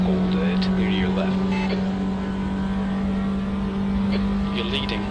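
Race car engines in the Assetto Corsa racing game with a Gran Turismo style mod: a steady loud droning engine note runs throughout with faint higher whines, and a voice talks over it.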